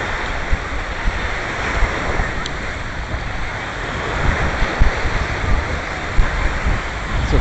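Ocean waves wash onto a sandy beach in a steady, loud roar of surf and rushing water with some wind, with no voices.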